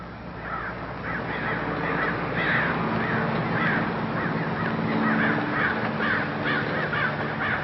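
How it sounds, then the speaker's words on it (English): Many crows caw repeatedly outdoors, their harsh calls overlapping in an irregular chorus at moderate distance, with no talking. "Crows. We have a lot of them out here."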